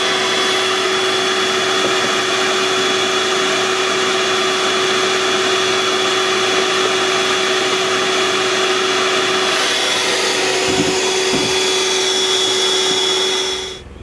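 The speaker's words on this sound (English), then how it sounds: "Schawee vacuumed a good bit of the bees" Loud vacuum roars continuously during a live bee removal, sucking up bees with a steady whine and a constant high tone, a brief bump in pitch partway through, then cutting off at the end.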